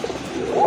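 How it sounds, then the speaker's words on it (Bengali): A pair of deep red pigeons offered for sale give a soft, low coo that swells near the end of the short moment, close and fairly loud with no talk. "খুবই ইউনিক এক জোড়া কবুতর"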